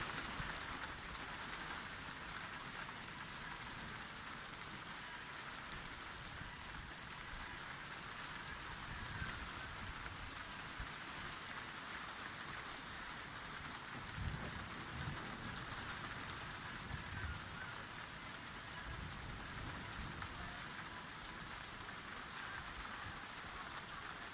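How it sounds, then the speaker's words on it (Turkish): Heavy rain pours steadily in Malatya, Turkey, a dense, continuous hiss of drops on surfaces that stays loud throughout, with no voices. "anormal bir şekilde doğru yağıyor"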